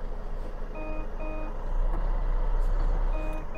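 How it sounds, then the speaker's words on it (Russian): A truck tractor coupled to a semi-trailer, trailer brake engaged, idles with a steady low engine rumble that swells midway, while short repeated electronic warning beeps sound in pairs near the start and again at the end. "Это тормоз прицепа."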